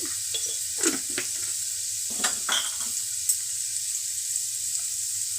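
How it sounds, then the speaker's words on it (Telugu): Beans, carrot, dried red chillies, curry leaves and spices fry in oil with a soft constant sizzle, broken by several sharp scrapes and taps of a spoon stirring against the pan. "మంచిగా వేగనిద్దాము ఆయిల్లో, పచ్చివాసన పోయే వరకు"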